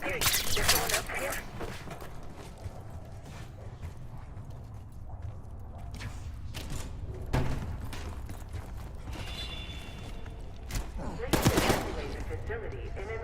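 Gunfire in the Black Ops 6 campaign, coming from lower floors of a facility, sounds as a few muffled bursts and sharp cracks spread through the clip under intermittent talking and background game noise.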